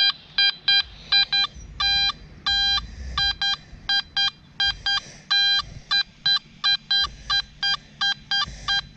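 A metal detector with a small search coil sounds a target signal: a series of sharp electronic beeping tones in short, irregular bursts, loud and close over a faint low background.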